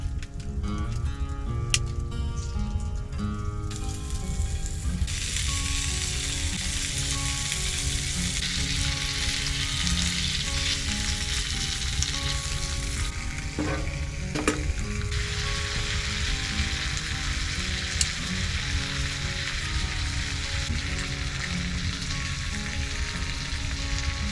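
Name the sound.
bacon frying and sizzling in a hot pan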